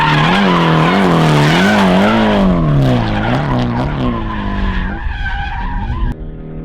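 A car drifting through a feint entry, its tires squealing loudly and almost continuously as the tone wavers up and down with the weight shift, then fading toward the end.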